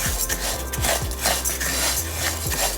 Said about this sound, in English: The sound of it, it's like if you are moving gravel around.